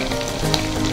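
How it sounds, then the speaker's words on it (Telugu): Chicken pakoda deep frying in hot oil, a steady close sizzle and bubbling crackle that holds evenly for the whole second with no talking. "సో అవి వేసేసుకొని డీప్ ఫ్రై చేసుకోవడమేనా అండి?"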